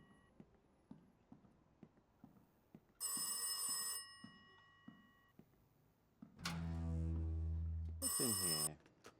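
In the horror video game Rise of Insanity, a telephone gives two shrill ringing bursts, followed by a deep booming tone and another ring, over slow rhythmic footsteps in an otherwise quiet space.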